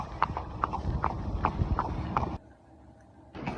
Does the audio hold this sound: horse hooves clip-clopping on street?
yes